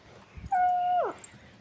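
A toddler imitates a fox's call with a single sustained, high howling cry lasting about half a second that slides downward at the end, clear and close with quiet surroundings.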